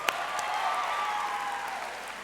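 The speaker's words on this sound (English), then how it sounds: "Another round of applause, ladies and gentlemen." An audience at a music theatre awards ceremony applauds steadily, a dense, even wash of clapping from a crowded hall, moderately loud with no break.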